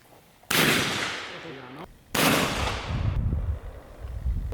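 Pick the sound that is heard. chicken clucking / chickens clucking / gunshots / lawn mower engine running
gunshots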